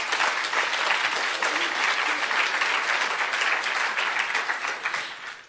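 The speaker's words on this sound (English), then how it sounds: "So I think you should give yourselves all a big clap for that." Sustained applause from a conference audience of health professionals, a dense even patter of many hands that holds steady and tapers off at the end.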